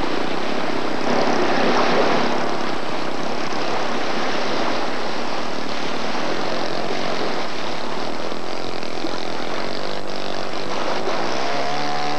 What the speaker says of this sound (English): This airplane is also a scale model of the famous J3 Cub.